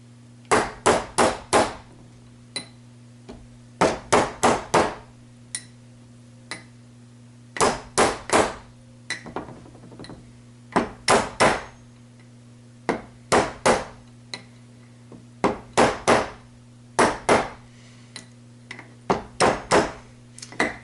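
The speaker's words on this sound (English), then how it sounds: "I'm hitting against the inner race, and I just want to make sure that's going on fairly straight" A hammer gives light taps to drive a bearing onto its inner race during a 1969 Lotus Elan SE gearbox rebuild, sharp metallic strikes in quick clusters of three to five, repeating steadily over a low steady hum.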